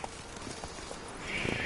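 Horse hooves trot through The Witcher 3 as a steady, soft clip-clop rhythm of moderate loudness, sitting under a bed of in-game ambience and music.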